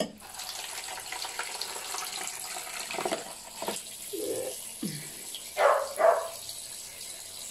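Water runs from a tap for washing, a continuous hiss with a few louder gushes and splashes near the end, faint voices in the background.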